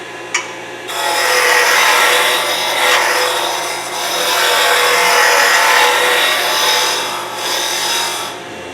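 A wood lathe turning a beer keg tap handle, a tool cutting the spinning wood with a loud continuous rasping scrape that swells and eases in long passes after a brief knock at the start, close and without talking.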